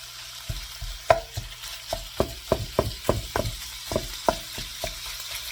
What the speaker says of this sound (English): as soon as the meat hits the pan